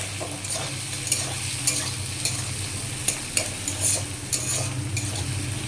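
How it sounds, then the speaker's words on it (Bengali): Sliced onions frying in hot oil in a pan, a loud continuous sizzle close by with sharp metal spoon taps and stirring scrapes at irregular intervals. "পেঁয়াজগুলো আমার ভাজা হয়ে এসেছে, খুব লাল কড়কড়ে করে ভাজবো না।"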